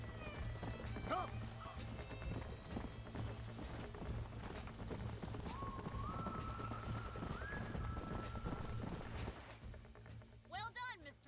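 In the Red Dead Redemption video game, horses trot with rhythmic hoofbeats and snort, and one lets out a high whinny near the end, all under background music.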